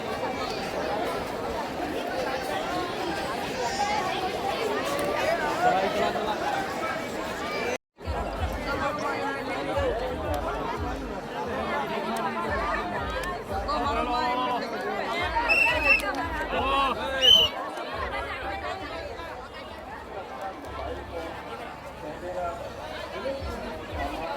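Crowd of pilgrims chattering at Dwarka temple, a dense, steady babble of many voices close around, with a brief dropout and a few sharper shouts rising out of the hubbub.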